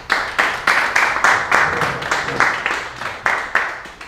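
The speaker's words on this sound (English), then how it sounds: "Do you want to give another round of applause?" Audience applause after a public talk on skateboarding and cities, heard as a run of distinct, fairly regular claps, loud and close, with no talking over them.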